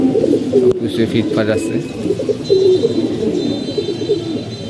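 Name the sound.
pigeons cooing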